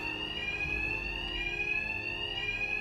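A steady, continuous alarm rings in the video game Batman Arkham Knight, loud and unbroken with a bright tone, alone with no voices over it.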